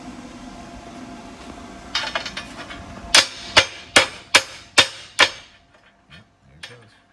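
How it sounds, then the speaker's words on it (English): A hammer knocks slag off plasma-cut steel parts from a CNC plasma table, giving about six sharp, evenly spaced metallic strikes up close after some lighter handling clatter, then a couple of faint taps. "these little pieces of slag, they just knock right off with a hammer."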